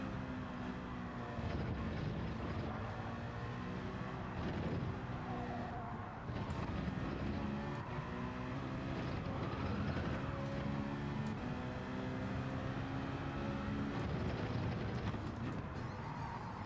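A Gran Turismo race car engine drones steadily through gear changes and short shifts, the pitch climbing and dropping in repeated sweeps, with a continuous mid-loud roar and no speech.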